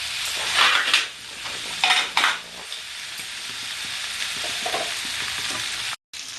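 Kochur loti (taro stolons) with shrimp stirred and frying in a pan, Bengali style, with a steady close sizzle and a few louder scraping bursts of the spoon against the pan, no talking.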